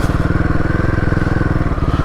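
A motorcycle engine pulses in a fast, even thump close by as the bike rides a rough, unpaved mountain road from Gunji toward Adi Kailash, with faint rattling over the drone.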